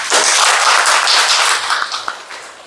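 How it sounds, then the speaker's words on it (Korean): A church congregation applauding during a Sunday service, a loud burst of dense hand clapping that holds for about two seconds before thinning out into a few scattered claps. "우리 박수 좀 쳐주십시오"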